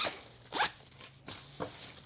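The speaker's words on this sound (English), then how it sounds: "Then we'll zip it back up." A zipper runs along a handmade fabric packing cube in several quick rasping pulls, close and crisp, separated by short pauses, with no voices.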